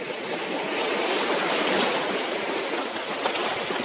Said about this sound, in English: I want the water to crash on this log here